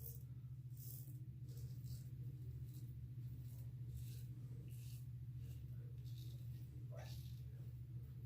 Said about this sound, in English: I hear you meowing back there.